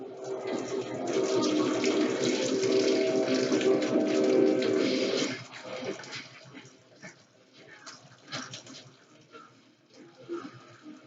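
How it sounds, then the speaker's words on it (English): Hot cooking juice poured off a pot of collard greens with pigtails, a steady loud splashing stream for about five seconds, then trickles and clatter with voices faint underneath. "Pouring off the juice."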